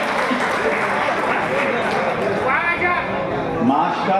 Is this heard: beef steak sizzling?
no